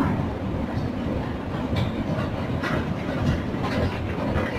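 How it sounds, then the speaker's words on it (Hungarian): A Budapest metro train pulls into a station with a steady, loud rumble of wheels and rolling carriages, faint clacking and a few brief squeals, continuous throughout. "Tehát már onnan jön a metró."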